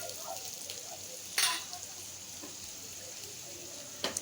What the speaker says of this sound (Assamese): যাতে বেঙেনাখিনি ইয়াতে মই ভাজি ল'ম